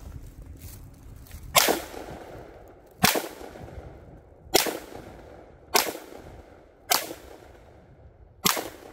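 An FN 510 10mm pistol firing heavy 200-grain Underwood hard cast loads outdoors, six sharp loud shots spaced about a second and a half apart, each with a short echoing tail.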